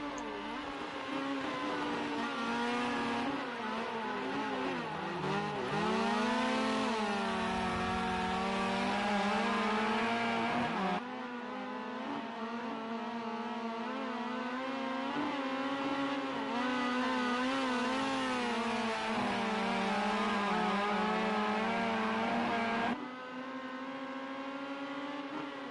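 Rally cars race on the final lap in the Rally Fighters video game, their engines droning and revving in a continuous close roar with shifting pitch throughout, no voices heard.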